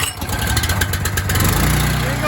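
A pressure washer engine on full choke starts up and settles into a close, loud, chugging idle with a steady low pulsing beat, while a voice talks briefly over it.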